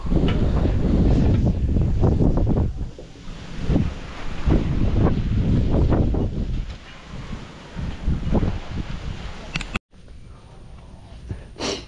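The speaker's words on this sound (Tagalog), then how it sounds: "yung hangin dito talagang grabe na" Strong, gusty wind roars and buffets the microphone for most of the clip, briefly cutting out near the end before a quieter, steadier rush continues.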